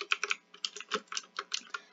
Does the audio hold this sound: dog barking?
no